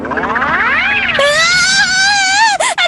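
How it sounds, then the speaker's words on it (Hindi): A cartoon girl lets out a loud, sustained high-pitched scream that rises and wavers in pitch for nearly three seconds, alone and close. "चिल्ला क्यों रही?"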